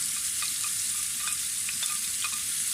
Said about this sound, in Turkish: Soğanımızın diriliği kayboluncaya kadar yakmadan soteleyeceğiz.